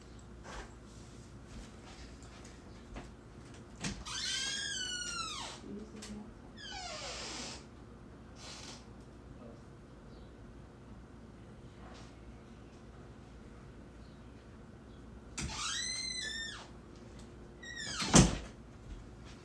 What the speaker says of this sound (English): I gotta put some WD-40 on my doors, Lord.